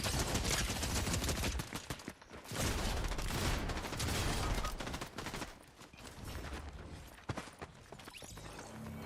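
Rapid SMG gunfire in the Fortnite video game, dense bursts of shots with brief pauses and scattered impacts, fairly quiet in the mix.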